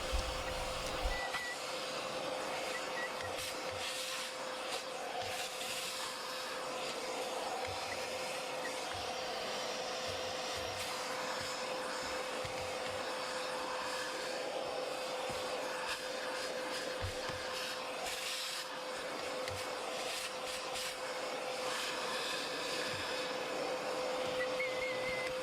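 A vacuum cleaner with a rubber-tipped nozzle works over a grimy leather car interior, giving a steady, unbroken whine and airy hiss with small scraping and rattling bits as the nozzle moves, no voices.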